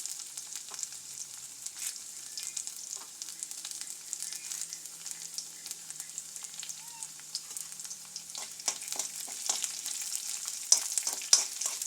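Onions, chillies and curry leaves fry in a pan with a steady, close sizzle and crackle, broken by sharper pops and spits that grow more frequent toward the end, with no voices.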